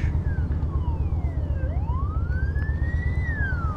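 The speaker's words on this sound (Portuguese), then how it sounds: "Passou a ambulância, vamos embora." A loud wailing ambulance siren sweeps down and up in pitch over a rumbling engine, passing close by.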